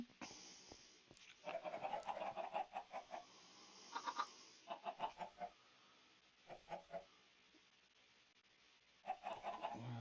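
A chicken in the game Minecraft Stoneblock 4 gives several bursts of soft clucking in a quiet setting, with short pauses between the calls.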